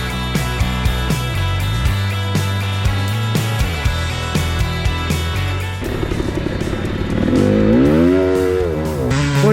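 Dirt bike engines rev hard and rise and fall in pitch during a hard enduro race in Norden, California, loud and continuous with repeated throttle blips and a rising, wavering whine near the end.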